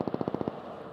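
A Q Honey Badger rifle fires Remington ammunition in a quick burst of about seven evenly spaced, suppressed shots over half a second, followed by a fading low rumble with no talk.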